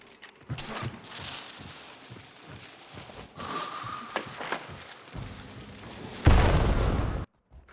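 Frag grenade detonating in Hunt: Showdown, a loud, broad boom near the end after a stretch of quieter in-game ambience and scattered small knocks, cutting off sharply.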